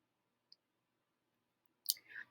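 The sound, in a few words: computer mouse click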